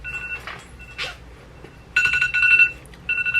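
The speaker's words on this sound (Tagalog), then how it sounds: "Nag-alarm na yung cellphone ko." A cellphone alarm rings in repeated bursts of bright, pulsing electronic tones, coming in two clear rounds with a short gap between them over a quiet room background.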